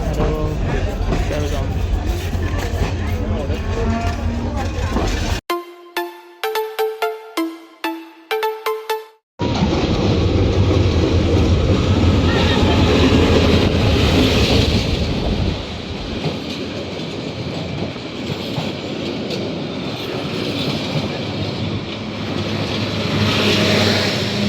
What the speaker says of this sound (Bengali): এটা হচ্ছে কিশোরগঞ্জ এক্সপ্রেস, কিশোরগঞ্জ চলে যাবে